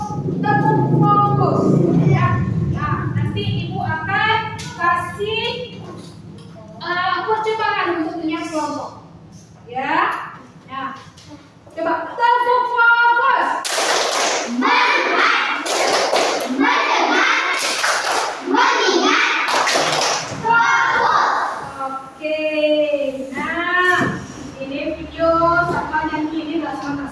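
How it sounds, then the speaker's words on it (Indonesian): Children in a classroom doing the tepuk fokus clapping routine, chanting together with bursts of sharp rhythmic clapping and thumps, mixed with a teacher's talk. "Kita satu lagi kita tepuk fokus, ya"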